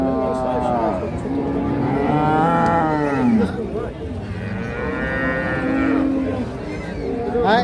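A Holstein Friesian dairy cow at a cattle market moos loudly and close by in long, drawn-out calls, with market voices faintly audible underneath.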